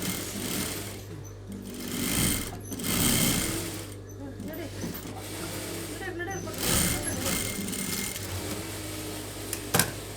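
Sewing machine stitching blouse fabric in a full round seam, its steady mechanical whirr running continuously with brief pauses and restarts, while someone talks over it.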